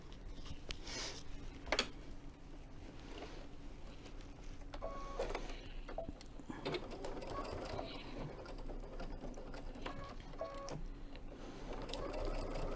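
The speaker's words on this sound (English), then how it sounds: "we're going to fold that together and sew" A sewing machine stitching two sides of fabric together in a quilting project, with a faint mechanical whir in short runs among quiet handling noises and low voices.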